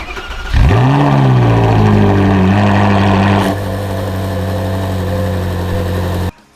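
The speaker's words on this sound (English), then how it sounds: "it fired up first time after the winter storage" A Ferrari performance car engine cranks and fires on the first try after winter storage, flaring up loudly then settling into a steady, close, rumbling idle that dips slightly before cutting off.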